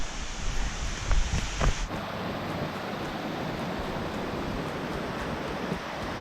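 Steady broadband rush of a small waterfall near a broken bridge on a Golden–Revelstoke road trip, continuous and fairly loud, with a brief burst of closer splashing or handling noise early on.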